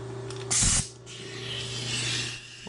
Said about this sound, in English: clean out the hole here with a little bit of compressed air